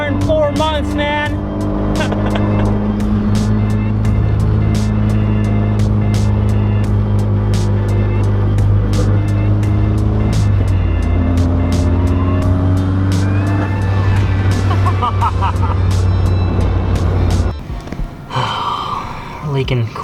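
A Mazda Miata that is leaking fuel and transmission fluid and hasn't been driven in four months drives along, the engine droning loud and steady, revving up and shifting midway, with some talk over it before the engine note suddenly drops away near the end.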